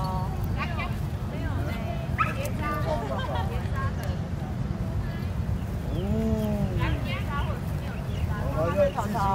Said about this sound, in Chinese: 别扭的一只狗。